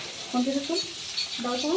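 Hilsa fish frying in a pan gives a close, soft sizzling hiss, with a voice sounding over it in short tonal phrases.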